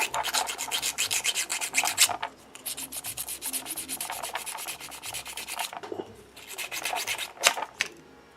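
Steady back-and-forth sanding on a 3D printed tank part, close and fairly loud, in rhythmic bursts of rubbing strokes with a brief pause near the middle.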